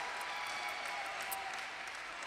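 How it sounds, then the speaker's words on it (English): Steady applause from the crowd at a Paralympic men's class 7 table tennis semi-final in London 2012, a continuous distant wash of clapping with no voices over it. "And Gorazbeko, the coach, clapping as well, got up out of his seat."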